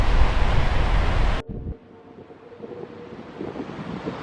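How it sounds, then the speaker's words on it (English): A north wind blows hard across a beach on Eleuthera, loud gusty rumble buffeting the microphone, then drops abruptly to a softer, steady breezy hiss with faint surf underneath. "Wind's coming from the north."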